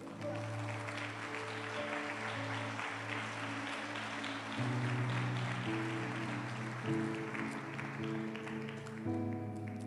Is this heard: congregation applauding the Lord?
yes